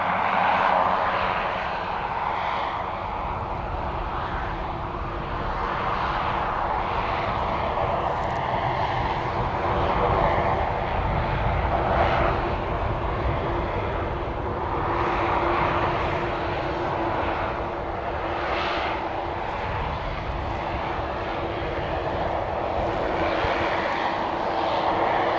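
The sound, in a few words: Life Flight air ambulance aircraft at Christchurch International Airport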